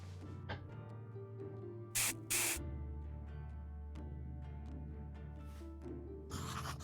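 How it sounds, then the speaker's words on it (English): A memory tincture sprayed into the eyes in the video game Graveyard Keeper: two short, bright hissing spray bursts in quick succession, then a later third burst, over a steady game music background. "And now spray it into both eyes."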